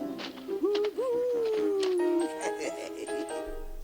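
A voice imitates an owl's hoot in a Winnie the Pooh campfire story from a 1999 Tiger Electronics storyteller toy: a long, wavering, gliding call up close, with strange noises, music and narration around it.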